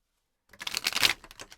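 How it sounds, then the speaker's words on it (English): A quick riffle of playing cards being shuffled, a brief flurry of crisp flutters close up, with no talking. "I'm going to shuffle a few more times just to see what else."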